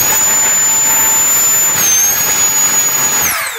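A compressed-air turbine runs at 30 PSI with leaks, giving a loud, steady jet-like whine with a high tone that dips and rises slightly before sliding away as it winds down at the end.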